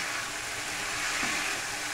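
Ground roasted cumin added to oil sizzling in a pan on a home stove, a continuous even hiss and crackle of frying with a faint stir partway through, no voices.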